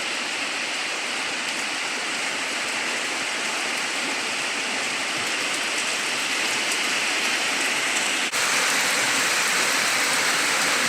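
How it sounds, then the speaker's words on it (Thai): Heavy rain pours steadily behind a house near a tractor, a dense, even hiss of drops with no voices. "บรรยากาศฝนตกปล่อยๆพี่น้องเอ้ยเนาะ"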